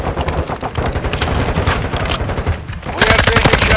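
Rapid, loud submachine-gun fire and scattered shots from Call of Duty: Modern Warfare II crackle in dense bursts, growing harsher and more intense toward the end.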